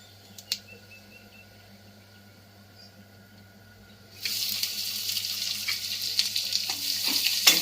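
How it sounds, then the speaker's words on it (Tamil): Cumin seeds and onions hitting hot oil in a pan, a quiet background for a few seconds, then a sudden broad crackling sizzle that stays steady and close to the end. "இப்போ எண்ணெய் காஞ்சிச்சு, ஜீரகம் போட்டுடலாம். ஜீரகம் பொரிஞ்சதும் வெங்காயம் போட்டுடலாம்."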